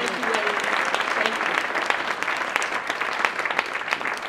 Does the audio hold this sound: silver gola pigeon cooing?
no